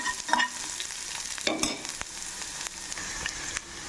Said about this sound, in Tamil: பூண்டு நல்லா கோல்டன் ப்ரௌனாக வதக்கிட்டு